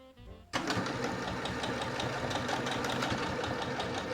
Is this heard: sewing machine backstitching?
yes